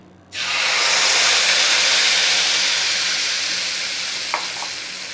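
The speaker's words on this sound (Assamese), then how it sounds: "গৰম হৈছে পেনখন। এতিয়া ইয়াতে মই মছলাখিনি দি দিছোঁ।" Spices hit a hot pan and burst into a loud, steady sizzle that starts abruptly and stays strong, tapering only slightly, with no talking over it.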